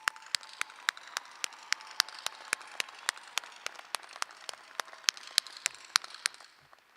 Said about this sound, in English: I asked for a round of applause for our graduating class one more time